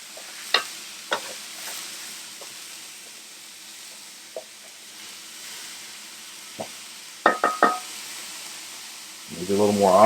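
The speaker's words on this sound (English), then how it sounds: "So we've got our orzo cooking over medium" Orzo with olive oil and seasoning sizzles in a pan over medium heat: a steady soft hiss, broken by scattered clinks and scrapes of stirring and a louder clatter near the end.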